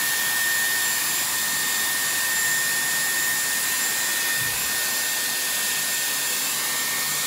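A Dyson Airwrap hair styler runs steadily throughout while curling hair, a loud, constant airy blower whine with a thin high tone, near and uninterrupted, no voices.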